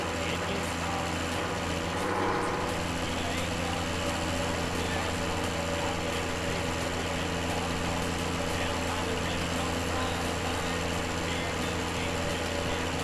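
Articulated tractor engine in Farming Simulator 17, a steady low idling drone with constant tonal hum, continuous and fairly loud throughout with no pauses.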